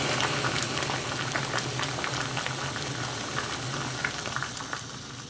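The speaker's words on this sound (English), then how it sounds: "we got a rolling boil right now" Water churns at a rolling boil in a titanium pot on a Jetboil SOL Titanium stove, a dense, steady bubbling hiss close by with a faint burner hum beneath, no voices.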